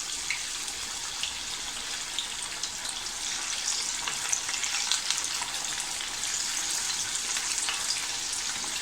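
Marinated chicken pieces frying in hot oil over medium gas, a steady bright sizzle with fine crackles and spits that holds at an even level throughout, close and with no voices.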